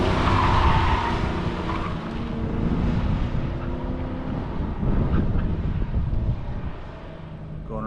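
A Camaro's engine roars and revs as it pushes hard at an autocross event, then eases off with tire noise and skidding, swelling and fading in bursts.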